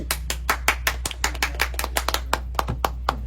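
A small group applauds at a political gathering, with sharp, irregular hand claps about four to five per second, close and fairly loud over a low steady hum, no talking.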